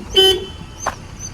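One short, sharp car horn toot sounds close by, followed by a softer, brief blip.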